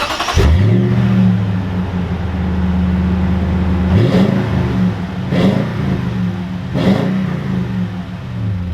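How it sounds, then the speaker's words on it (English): A 2021 Toyota Tundra Platinum pickup truck drives and accelerates, its engine revving up loud and close with a steady low drone and several rising surges as it picks up speed. "let's take this Tundra Platinum out and see how it drives"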